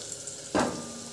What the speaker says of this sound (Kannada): 1 ಮೆಣಸಿನ್ಕಾಯಿ, 1-2 ಇಷ್ಟು ಗೋಲ್ಡನ್ ಕಲರ್ ಬರೋವರೆಗೂ ಫ್ರೈ ಮಾಡ್ಕೊಳ್ಳಿ